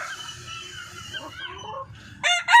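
Darag native chickens cluck and call in a farmyard, a steady low murmur of fowl sounds near the mic with a few louder, sharper squawks toward the end, no talking.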